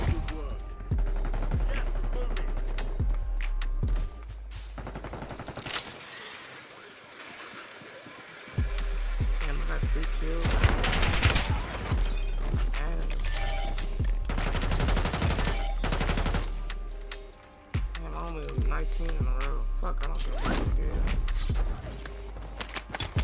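Rapid gunfire bursts from Call of Duty Warzone, repeated shots in clusters with brief pauses, loud and close, while a player talks over the action.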